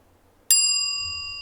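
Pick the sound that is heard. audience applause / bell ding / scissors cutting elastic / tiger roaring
bell ding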